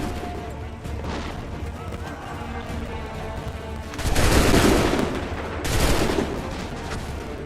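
Musket volleys in a battle scene in the Assassin's Creed III video game crack out in two loud, dense bursts of overlapping gunfire over a rumbling background.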